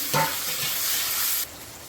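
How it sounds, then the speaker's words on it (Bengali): Chopped onions hit hot oil with a sudden loud sizzle that settles into a steady hiss, then drops off sharply near the end; nobody talks. "পেঁয়াজ কুচি দেবো তেলে"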